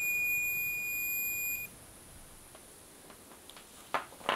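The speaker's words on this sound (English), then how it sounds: "The resistance range even has a bleeper to help indicate continuity" A Mercury MTM01 multimeter's continuity beeper sounds a single steady, close electronic tone lasting about a second and a half, then cuts off, leaving faint room noise and a few small clicks.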